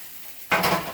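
Seasoned pork stirred in a hot pan: quiet at first, then a sudden loud sizzle of frying meat as it is moved, with a scrape of the pan, close and alone.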